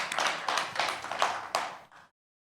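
A short burst of applause from a group, steady clapping for about two seconds before cutting off abruptly.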